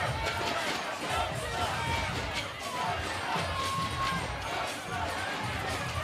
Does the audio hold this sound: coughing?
no